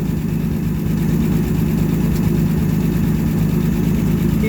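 An old Clark forklift engine idles steadily after a cold start, still partly choked, with a loud, close, low rumbling drone that stays even throughout.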